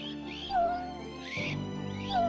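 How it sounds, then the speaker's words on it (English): A small kitten gives a few thin, high meows spaced apart, calling for its mother in the wild Iberian countryside, faint and alone against a quiet background. "The smaller kitten calls her desperately."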